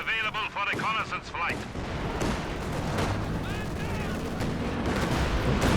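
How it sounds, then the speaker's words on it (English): Katyusha rocket artillery in Company of Heroes 2 fires a dense barrage of booming launches and explosions that rumble on continuously, with bursts of in-game voice chatter near the start. "Katyusha ready to fire."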